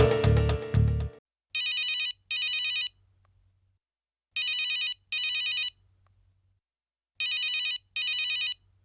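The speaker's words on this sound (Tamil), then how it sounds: "ஃபோன் அடிக்குது, எடுத்தா என்ன?" A telephone bell rings in three paired bursts of bright, buzzing rings separated by silent pauses, loud and close, after a short musical sting at the start.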